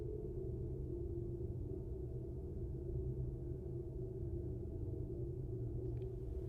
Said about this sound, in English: you can hear how this water or how this heating system runs through